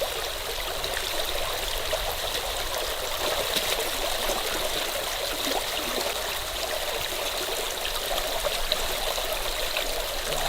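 A steady stream current rushes and trickles continuously around a trap set in the water, a close, even wash of flowing water with no voices.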